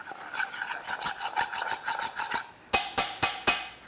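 Rhythmic rasping strokes of mixing salted ingredients by hand for pork cutlets, a steady series of about a dozen scrapes, then a short pause and a few sharper, louder strokes, close and without talk.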